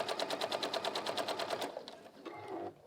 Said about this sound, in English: I'm top stitching